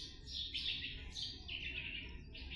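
Sparrow chicks give bright, repeated high chirps in quick bursts, fairly close and clear over a low background hum, with no talking.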